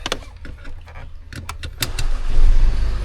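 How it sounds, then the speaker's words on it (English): A MINI Cooper JCW being started from inside the cabin: a few clicks and taps, then the engine catches and rises into a loud, steady rumble. "Let's start the car."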